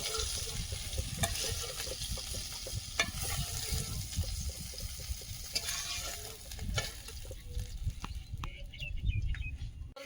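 Large river goby fish frying in hot oil, a continuous close sizzle broken by scraping and clinking as pieces are stirred and lifted out.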